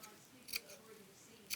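Sewing scissors giving two short, crisp snips about a second apart, close and quiet against a faint room hiss, with no talking.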